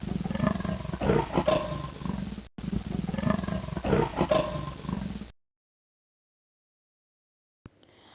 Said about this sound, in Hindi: आई एम लेपर्ड, मैं तेंदुआ हूँ और मेरी आवाज़ ऐसी है।